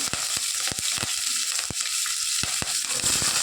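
Onions and curry leaves fry in hot oil for a home-style tomato gojju, giving a steady close hiss of sizzling with scattered sharp pops and crackles throughout, no voices present.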